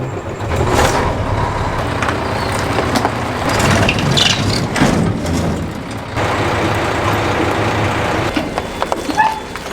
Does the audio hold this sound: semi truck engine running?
yes